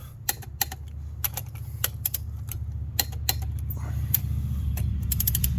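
A ratchet wrench torques engine mount bolts on a Nissan Altima, giving rapid clicking pawl ratchets in uneven bursts over a steady low mechanical hum nearby, with no talking.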